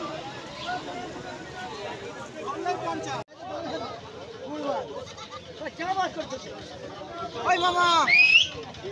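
Crossbred goats bleat at the Uluberia goat market, several calls rising over a busy babble of people talking, with one louder, close bleat near the end.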